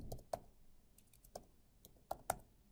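Quiet, irregular clicks of keys being pressed on a computer keyboard, a few sharper strokes standing out, with no talking.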